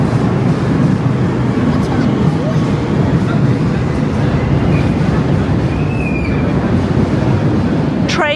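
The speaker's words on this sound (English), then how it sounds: "Going over us at the moment into Charing Cross." A train crosses Hungerford Bridge into Charing Cross, London, with a loud, continuous rumble and rushing roar, plus a few faint squeals and a sharp metallic screech near the end. Wind noise hits the microphone, and voices can be heard.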